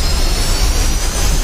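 Jet aircraft engine in DCS World during a Six Day War campaign takeoff, a loud, steady roar with a high whine on top, close and continuous without talk.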